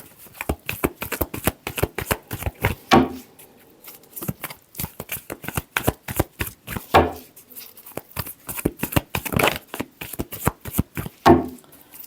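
Tarot cards being shuffled by hand: repeated quick riffling bursts and soft slaps in uneven groups, close up and fairly loud, with short pauses between shuffles and no talking.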